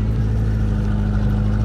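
A vintage car at an old-car meet in Saint-Étienne-du-Bois, Vendée, runs with a steady, low, even engine rumble close by and no voices over it.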